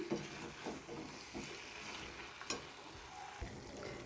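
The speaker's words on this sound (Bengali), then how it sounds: "এবারে ভালোভাবে মিশিয়ে নেব সমস্ত সব কিছু" Potato and chickpea curry stirred in a pan, a soft steady sizzle with faint scraping strokes of the spoon at intervals, quiet and close.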